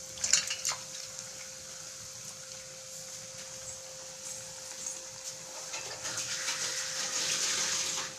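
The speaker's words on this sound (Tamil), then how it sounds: "எண்ணெயில் இப்படி போட்டுடணும்." Bread bonda balls coated in gram flour batter frying in hot oil, a soft steady sizzle and bubbling that grows slightly louder toward the end.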